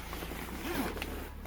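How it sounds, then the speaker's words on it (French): A zipper is drawn closed on a rooftop tent annex, one short rasping pull, close and quiet over a faint background. "Et là, il y a une fermeture éclair"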